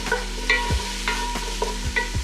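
Onions and garlic sizzle in a pot for turkey chili, with a steady frying hiss under several scraping stirs of a spoon against the pot.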